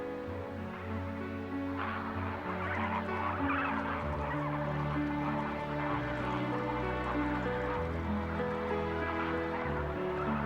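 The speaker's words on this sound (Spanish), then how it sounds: "el lago Bogoria rebosa de flamencos rosas" Pink flamingos at Lake Bogoria, Kenya, keep up a steady honking, goose-like chorus from a large flock, layered and continuous at moderate distance.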